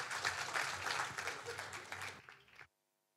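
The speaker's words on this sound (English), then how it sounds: "Give them a round of applause, ladies and gentlemen." Audience applause at a cinema screening with director Richard Lowenstein, honoring Michael Hutchence and the film Mystify. A dense, sustained burst of clapping tapers briefly, then cuts off abruptly into silence.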